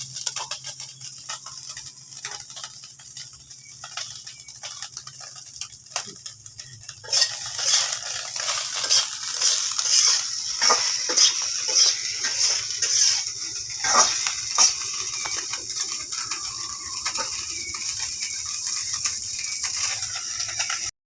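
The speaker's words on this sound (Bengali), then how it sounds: "ভাজা করতেছ" Small puti fish sizzle in oil in a pan: a quiet stretch, then the frying swells into a louder, steady crackling hiss, with scattered clinks of a spatula or ladle stirring against the pan.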